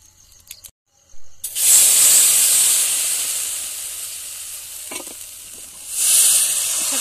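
A hot wok breaks into a loud, close hiss as batter for spinach chakli pitha meets the oil. The sizzle holds steady, then surges again near the end, with no speech.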